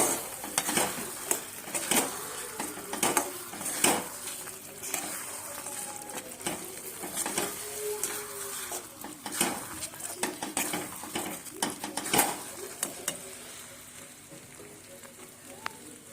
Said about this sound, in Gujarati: હવે મિક્સ કરી દઈશું અને એક મિનિટ માટે હલાવશું